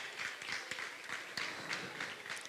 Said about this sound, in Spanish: Un aplauso para Luis Chávez, que se oiga Luis Chávez